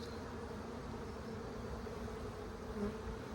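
Honeybees buzz in a steady, dense drone while a beekeeper inspects an open hive at an apiary, the close swarm noise holding evenly throughout.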